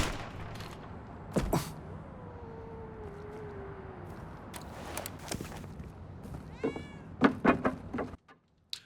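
A cat meows several times on a rooftop in Indiana Jones and the Great Circle, with one long drawn-out meow and later a rapid trilling call. Sharp thumps and clatters from the game are mixed in.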